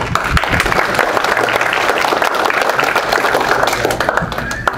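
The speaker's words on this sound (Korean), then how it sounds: "박수 한번 안 치십니까?" An audience at a May 16 anniversary commemoration claps steadily and densely throughout, with a low voice murmuring faintly underneath.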